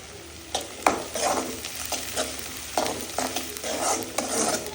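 Onions and curry leaves sauté in a pan with a steady sizzling hiss and repeated spatula scrapes at an uneven rhythm, close and moderately loud, with no talking.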